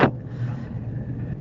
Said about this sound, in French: on est dans les bouchons de Nairobi